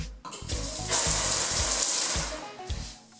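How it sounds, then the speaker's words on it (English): Water splashes onto a shower floor in several bursts as it is sprinkled over a cleaning paste, with loud spattering and trickling that rises and falls between pours. "I'm just gonna sprinkle a little water on it"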